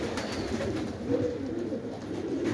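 Several pigeons in an aviary keep up a continuous, low, burbling coo, close and fairly loud, with no talking.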